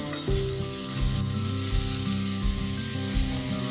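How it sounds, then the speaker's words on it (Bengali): Diced potatoes frying in a pan with salt and turmeric, a loud, steady sizzle close by with stirring, and a tonal hum running underneath throughout, no voices. "এবার আমি আলুটা একটু ভেজে নেব।"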